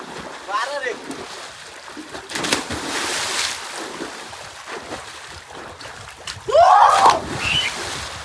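Water splashing and sloshing during an outdoor bath in a village, with bursts of splashing between stretches of quieter movement and a louder splash near the end; people talk and shout throughout.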